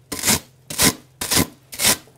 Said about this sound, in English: we continue with the sanding portion to make it all smoother